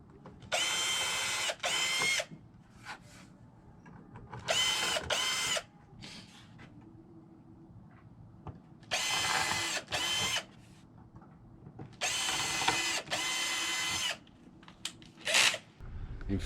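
A power drill runs in loud bursts while fitting hinges onto a board being converted from a dining room piece to a bed, with several whirring runs of one to two seconds separated by short pauses.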